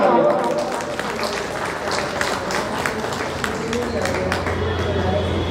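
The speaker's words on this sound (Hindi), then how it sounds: "एक बार जोरदार तालियां।" Applause from a seated audience at an Indian organisation's appointment ceremony, continuous scattered clapping that holds steady while voices carry on over it.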